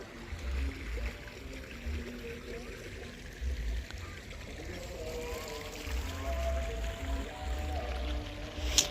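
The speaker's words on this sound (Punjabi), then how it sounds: "ਸਾਰੇ ਨੱਕਿਆਂ ਨੂੰ ਆਪਾਂ ਇਕੱਠਾ ਪਾਣੀ ਛੱਡ ਦਿੱਤਾ ਹੈ" Irrigation water runs through channels in a maize field, a soft continuous trickle and gurgle over low rumbling wind buffets, with faint indistinct voices at times.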